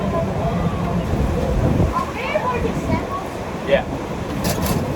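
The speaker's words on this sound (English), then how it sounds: "It's windy as shit." Strong wind buffets the microphone with a constant low roar and rumble, while faint voices come through.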